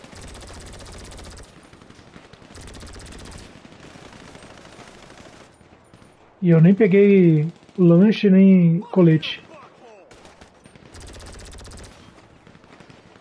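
Rapid automatic gunfire from GTA V Online plays in several sustained bursts at a steady rate, spaced apart across the stretch. Between the bursts someone speaks loudly into a close microphone.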